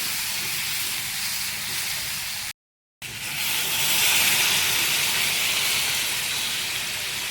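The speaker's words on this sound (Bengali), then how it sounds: "এখন আমি এখানে ঝোল দিয়ে দেবো" Broth hits frying chickpeas with a loud, close sizzling hiss that cuts out briefly, then returns strong and steady.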